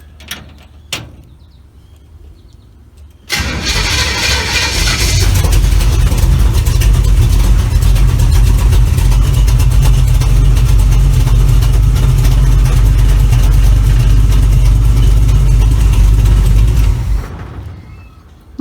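After a volt and fuel gauge install, a car engine cranks and starts, then idles steadily with a loud, deep, even rumble for about fourteen seconds. A couple of small clicks come before it, and it cuts off near the end.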